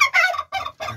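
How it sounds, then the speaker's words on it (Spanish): A turkey gobbles in three quick, loud bursts close by, in a home yard near newly hatched backyard chicks, with no talk over it. "El señor pavo está reclamando como si fuesen suyos."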